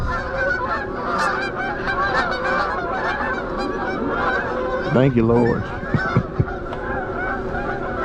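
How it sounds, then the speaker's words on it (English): A flock of birds passes overhead at a farm pond, a dense, continuous chorus of goose-like honking with a few louder calls up close, while someone speaks briefly. "Ain't nothing worse than a flock of birds flying over you."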